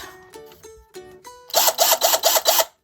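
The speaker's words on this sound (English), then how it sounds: "I'm going to use my drill." A few short mechanical whirs, then five loud rhythmic bursts of a power drill spinning up and stopping, close by.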